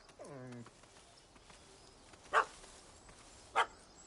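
A small dog in the video game The Witcher 3 lets out a short whining yap near the start, followed by two brief sharp barks spaced apart, faint and a little distant over quiet ambience.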